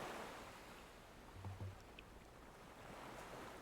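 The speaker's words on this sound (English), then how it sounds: "The sound of the waves creates a gentle, continuous melody" Ocean waves wash onto a beach in a soft, continuous surf, a quiet, faraway rolling hiss that swells and settles without any voices.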